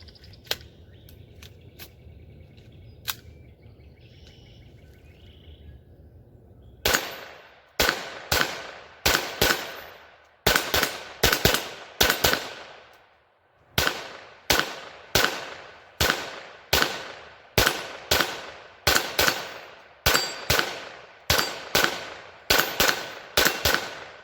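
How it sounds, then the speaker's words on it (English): A Kel-Tec CP33 pistol fires Federal Red Box 36 grain hollow point rounds: after a quiet stretch with a few faint ticks, a long string of loud, evenly spaced shots rings out, with a brief pause midway. "Now we're going to try 33 rounds of the Federal Red Box bulk."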